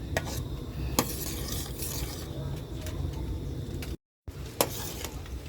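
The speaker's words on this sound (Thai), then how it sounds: "แล้วก็ใส่กะทิลงไปแล้วนะคะ ก็ให้มันเดือดให้มันเข้าเป็น เนื้อเดียวกัน" Coconut milk and plain sugar heat together in a pot for Thai sago pudding, giving a steady bubbling simmer with occasional clicks of a utensil against the pot and a brief dropout near the end.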